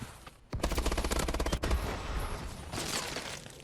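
Rapid automatic gunfire in Call of Duty: Advanced Warfare on a small multiplayer map, a loud sustained burst of close shots that tapers into fainter firing.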